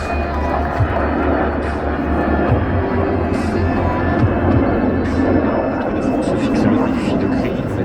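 The Patrouille de France jet formation at the Paris Air Show gives a loud, sustained low jet roar and throbbing hum that fills the scene, with a voice talking over it on the public address.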